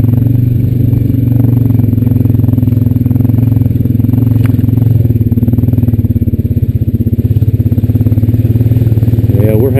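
A Honda Rancher 420AT ATV engine drones steadily and loudly up close while riding through mud in two-wheel drive, with a low continuous rumble, rattling clatter, and people talking over it.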